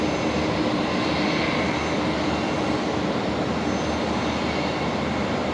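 A Fokker aircraft towed at night at Brisbane Airport, with a steady, fairly loud broadband roar of engine and airport noise that holds continuously throughout, with no talking.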